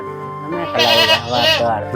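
A goat bleats twice in wavering, nasal cries, close by, with faint background noise between calls.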